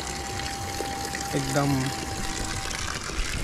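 River water flowing steadily at a quiet park in Dharan, Nepal, a continuous broadband rush under a person's speech, with a brief tonal sound in the middle.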